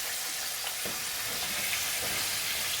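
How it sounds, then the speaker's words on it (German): Potatoes sizzle steadily in oil in a pan, a constant bright hiss at moderate, fairly quiet level with occasional small pops, and no voices. "Die Kartoffel ist bald fertig, beide Seiten bitte anbraten"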